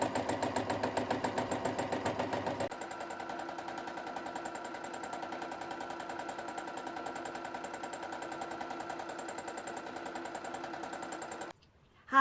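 A sewing machine stitches free-motion embroidery with pale pink thread, running fast and steady at close range, then its rapid needle rhythm drops to a lower, even whir for most of the stretch before cutting off at the end.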